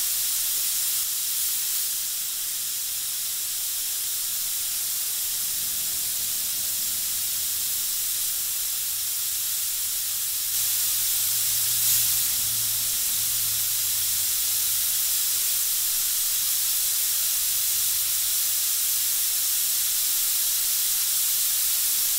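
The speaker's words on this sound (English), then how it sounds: "Remember, this airbrush is extremely responsive, so it's going to do exactly what you tell it to do." An airbrush spraying yellow paint to reestablish highlights, a steady airy hiss running continuously throughout at moderate level, with a slight swell near the middle.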